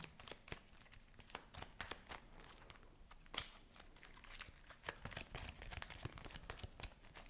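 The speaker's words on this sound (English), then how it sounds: "So I'm gonna shuffle." Cards for the This War of Mine board game being shuffled by hand, soft crisp riffles and papery snaps in short bursts, quiet and close with no talking.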